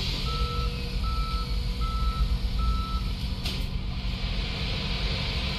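Tow truck reversing beeps in the Police Simulator game: a steady series of evenly spaced electronic beeps repeating over a constant low engine rumble and traffic noise.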